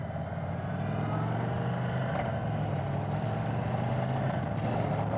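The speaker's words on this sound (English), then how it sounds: "Just a light throttle is all you need to get going in sport mode." A 2023 Indian Sport Chief 116 motorcycle pulls away under light throttle in sport mode, its engine a steady, rumbling drone heard close and continuous throughout.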